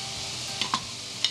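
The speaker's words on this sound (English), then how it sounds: "So we're going to add the garlic." Garlic hitting a hot pan with softened onions for a stovetop spaghetti sauce: a faint, steady sizzle with a couple of brief utensil clinks.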